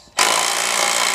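An air impact gun hammering on a car bolt during a Mazda Miata twin-disc clutch install, a loud continuous rattling burst that starts abruptly and holds steady.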